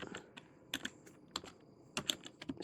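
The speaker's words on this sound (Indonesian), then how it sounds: "Yang bawahnya juga sama, kita ketik script" Quiet keystrokes on a computer keyboard while writing code, clustered in short bursts of clicks with brief pauses between them, close and soft.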